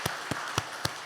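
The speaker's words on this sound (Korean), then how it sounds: "우리 박수해 드리지요" Four slow, evenly spaced claps ring out in a quiet church service, each one sharp and distinct, with nothing else in between.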